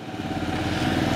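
A motorcycle engine idles nearby with a steady, throbbing putter, loud and unbroken for a brief moment.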